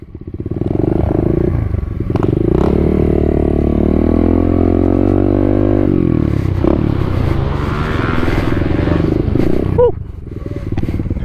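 A pit bike is ridden up close with a raspy small-engine drone that revs up, holds, then drops and picks up again. It has a clattery mechanical edge, and a rider's voice is faintly heard over it.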